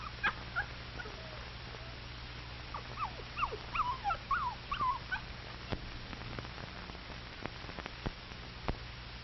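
Homesick puppy whimpering, a string of thin, high, wavering whines and yips in short clusters, quiet and close over a steady low hum and hiss.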